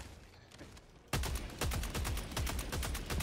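Rapid automatic gunfire erupts in a shooter video game after a second of quieter ambience, a loud, dense burst of repeated shots that continues steadily to the end.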